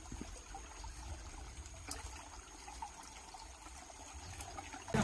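Spring water flows down from the hills beside a road in Mizoram, a faint, steady trickle and pour heard close by, with a louder thump at the end.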